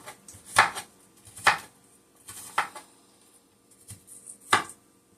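A kitchen knife chops onions into pieces on a cutting board, five crisp, separate thwacks spaced about a second apart, close and clear with quiet between strokes and no talking.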